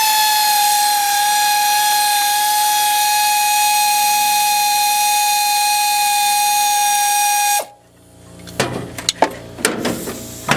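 Bolts being removed from the power steering pump on an Isuzu engine: a steady high-pitched power-tool whine holds for about seven seconds, then cuts off, followed by close clinks and metallic handling noises.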